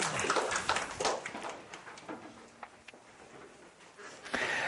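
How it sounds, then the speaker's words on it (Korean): A classroom audience gives quiet, scattered applause for a student group, a steady patter of distant hand claps lasting the whole moment with no talking. "5조 박수 한번 쳐주시고요."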